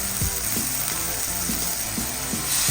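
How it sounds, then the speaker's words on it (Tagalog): Garlic, onion, ginger and bagoong with small fish sautéing in a pan, a loud constant close sizzle with a regular rhythm of stirring scrapes, no talking. "kinigisa ko po ang ating bawang, sibuyas at ang luya. Ayan, isusunod ko na po ang ating bagoong po."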